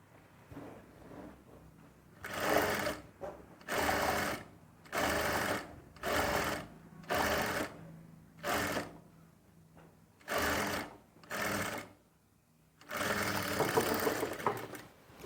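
Short repeated bursts of a sewing machine stitching a dress, each a second or so long with quiet gaps between, ending in a longer run, close and moderately loud.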